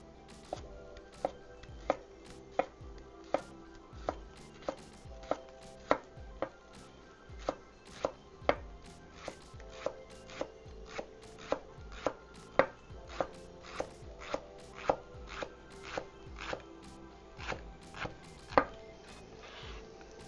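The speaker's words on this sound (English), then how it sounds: "Gonna do our leeks next." Leeks are chopped on a cutting board with a knife, a steady run of crisp, evenly spaced thuds close by, continuing for the whole stretch with no talk.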